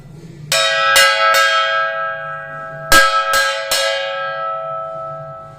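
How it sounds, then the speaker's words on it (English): A handheld school bell with a flat metal plate and wooden handle is struck in two quick sets of three bright metallic clangs, each ringing on with a long shimmering decay, close and clear. "School bell is like this"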